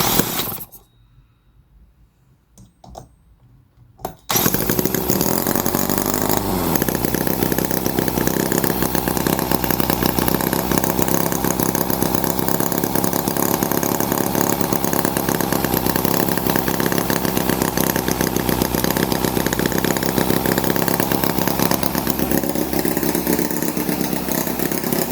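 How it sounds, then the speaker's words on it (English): A Microcosm H75 model engine, painted red, with its carburetor not yet fully tuned, starts after a few seconds of near quiet and then runs loud, steady and close, with a buzzing, slightly uneven firing note throughout. "Cylinders all are firing, not entirely even, but that's completely normal."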